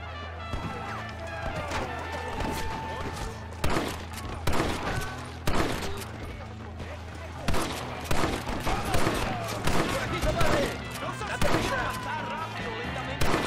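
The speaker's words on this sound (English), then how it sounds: "don't run out if there's a Gatling gun" A Gatling gun hammers away in a Red Dead Redemption gunfight, with bursts of rapid gunfire and crashing hits over a droning game soundtrack, while voices shout and talk through the din.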